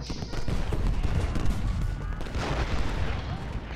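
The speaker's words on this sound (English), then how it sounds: "getting just hammered by this Confederate artillery" Confederate artillery fire in a Civil War battle video game, a dense rumble of overlapping cannon booms and low thuds rolling continuously for a few seconds.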